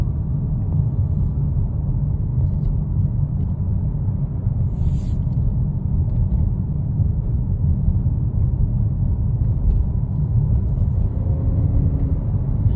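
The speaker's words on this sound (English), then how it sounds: "a couple seconds here to hear how the car drives" 2025 Volkswagen Atlas Cross Sport driving on the road, heard from inside as a steady, smooth low rumble of engine and road noise, constant and unbroken with no talking.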